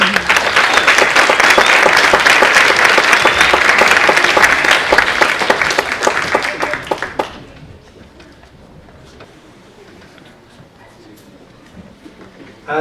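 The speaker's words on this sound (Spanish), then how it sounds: "Esos calurosos aplausos," An audience at a young readers' gathering bursts into warm, dense applause that carries on loudly for several seconds, then abruptly dies away, leaving only quiet room sound with a few stray claps.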